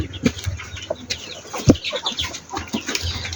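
Desi chickens cluck and squawk close by, several birds calling in short bursts, with occasional flapping and rustling in the background.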